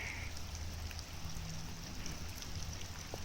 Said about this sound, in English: this rain just started about less than 20 minutes ago.